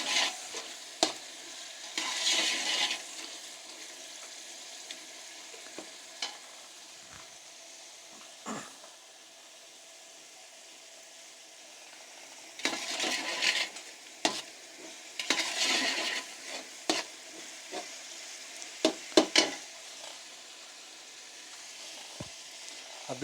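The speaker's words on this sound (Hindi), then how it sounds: "फिलहाल आप इसको यहाँ पे चम्मच की मदद से इसको अपनी फ्राई करते रहें" Pulao ingredients fry in a pot on a stove and a spoon stirs them, giving a soft continuous sizzle. Bursts of scraping and clinking come in irregular clusters, with quieter stretches between them.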